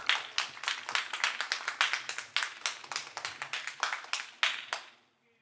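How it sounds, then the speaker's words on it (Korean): A small audience at a banking and cloud-technology business presentation claps in a steady patter of individual claps for about five seconds, fairly faint, then stops abruptly. "박수로 맞이해 주세요."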